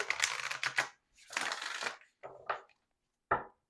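Oracle cards being shuffled by hand in a few crisp bursts of papery riffling and rustling, followed by a short sharp tap, close and fairly quiet with no talking.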